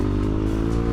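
A 450 dirt bike engine runs loud and close, a steady throaty motorcycle drone with a faint rattling edge and no break.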